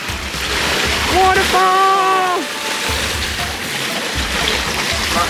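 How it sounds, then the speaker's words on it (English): Waterfall splashing into a backyard koi pond, a steady broadband rush of falling water throughout, close and fairly loud, with people talking and exclaiming over it. "Waterfall!"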